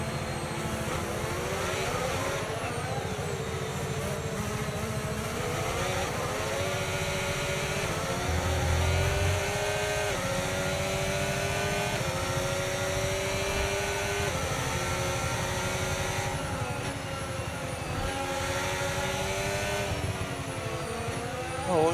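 Race car engines in a racing video game pull away from the pit lane, a steady buzzing drone with gently rising and falling pitch, moderately loud and continuous with no talk over it.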